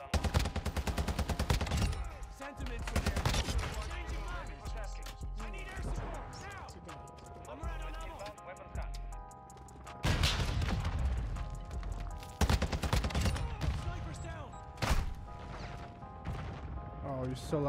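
Rapid automatic gunfire from a TAQ-V rifle in Modern Warfare 2 multiplayer, with dense bursts of loud shots, impacts and game effects running almost continuously, mixed with background game sound and a player talking over it.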